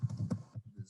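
Quick keystrokes on a computer keyboard, a rapid burst of soft clicks followed by a few spaced taps, close and quiet.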